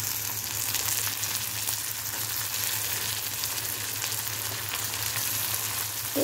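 Onion and tomato sautéing in oil for a ridge gourd curry, giving a steady, even sizzle and hiss throughout, close and constant with no talking.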